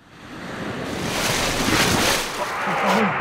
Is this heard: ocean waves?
yes